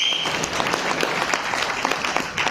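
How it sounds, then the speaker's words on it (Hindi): Audience applause at a talk on a cryptocurrency coin, a steady wash of many hands clapping close and loud across the whole stretch without pause. "एक बार जोरदार तालियां आप लोगों के लिए।"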